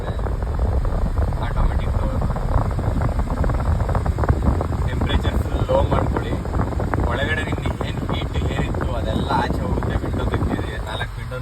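A car's automatic climate-control air blower runs with a steady, broad rushing hiss throughout, and a voice can be heard over it.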